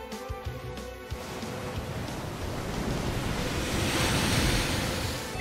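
Wave sounds from the Surf water attack in the Pokemon Let's Go Pikachu video game, a steady broad whooshing rush of water that swells louder toward the end, with no talk over it.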